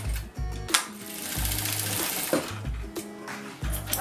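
A sewing machine stitches a seam on fabric for a small cat-shaped coin purse. Its rapid mechanical whirring comes in close, loud bursts separated by short pauses.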